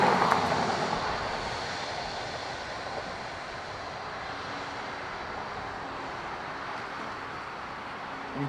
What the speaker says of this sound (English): Embraer Phenom next from London Luton.